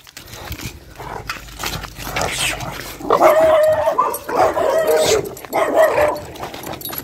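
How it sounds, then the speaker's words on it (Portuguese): A dog barks in repeated bursts outdoors on a residential street at night, with a stray dog nearby under a parked car, fairly close and loud over faint background noise. "Olha um cachorro lá debaixo do carro."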